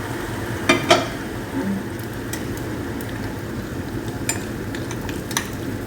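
Sugar caramelizes over banana turon as it is stirred in a hot pan, making a continuous low sizzle broken by a few sharp utensil clinks and scrapes against the pan.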